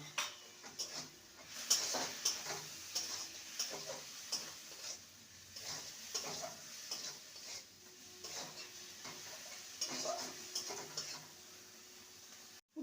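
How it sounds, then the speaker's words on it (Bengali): Chili powder stirred into a frying elephant foot yam and prawn kofta curry, with soft scraping and ticking of the spoon against the pan over a steady low sizzle, close and continuous. "আর ঝাল লঙ্কার গুঁড়ো সামান্য ভালো করে নেড়ে নেব"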